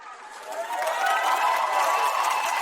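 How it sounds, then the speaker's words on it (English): A crowd cheering sample sits in a future funk track, a broad wash of many voices roaring and whooping that swells in over the first second and then holds steady and fairly loud. "whenever I use crowd sounds like this, I like to spread them pretty far out in the stereo field"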